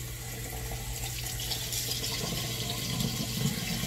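Tap water runs steadily into a bathroom sink while a face is rinsed after a skincare routine, a continuous close splashing flow that swells slightly near the end, with no talking.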